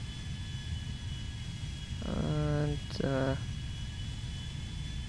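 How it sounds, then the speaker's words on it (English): An Airbus A380 jet landing in GTA V, a steady, broad engine rumble and roar with a thin high whine, under brief speech. "We've got an A380 landing again"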